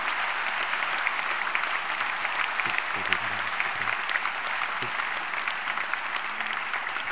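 An audience at a law master's graduation ceremony claps steadily throughout, a dense, even wash of applause from a crowd, with a faint voice briefly underneath.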